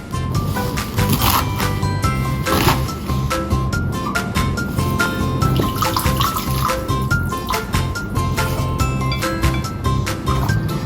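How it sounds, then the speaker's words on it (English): Running tap water splashes steadily while amaranth leaves are washed, a continuous loud, close rush of water with occasional clatter and rustling of the greens. "Wash amaranth, remove stem, and cut into section."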